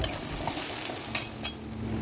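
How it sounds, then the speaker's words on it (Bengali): Cumin and bay leaf frying in hot oil, a close continuous sizzle with a couple of brief stirring clinks. "এদিকে আমি তেলের মধ্যে জিরে আর তেজপাতা দিয়ে দিলাম"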